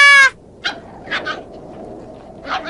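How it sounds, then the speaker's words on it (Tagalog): A dog gives a short high yelp, then several soft whimpers and yips follow, close by over a quiet background. "Ang cute ng aso!"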